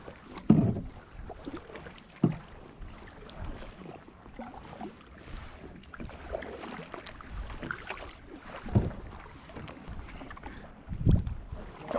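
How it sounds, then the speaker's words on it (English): Small boat on Lake McDonald in Montana, over water 400 feet deep, its hull shifting and knocking in the water with a few sharp thumps and creaks over steady wind noise on the microphone. "Holy crap, baby, you're rocking the boat."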